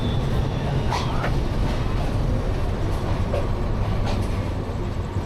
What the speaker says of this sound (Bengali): বিমানবন্দর রেলওয়ে স্টেশন থেকে জামালপুর এক্সপ্রেস ছেড়ে দিল ঢাকা কমলাপুর রেলওয়ে স্টেশনের উদ্দেশ্যে